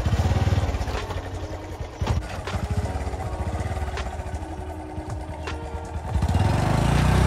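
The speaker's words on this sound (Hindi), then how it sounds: "यहाँ पे हमारी बाइक पूरी फंस चुकी है।" A motorbike stuck in soft, rain-soaked mud on a trail near an old suspension bridge in Himachal, its engine revving loud and close in a steady, labored drone with clattering surges and no talk.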